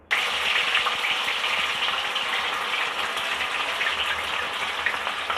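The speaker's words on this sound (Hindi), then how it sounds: "अब इसमें हम भिंडी फ्राई करेंगे।" Okra frying in hot oil in a kadai gives a loud, steady hissing sizzle that starts abruptly and runs unbroken throughout, close up and with no voices.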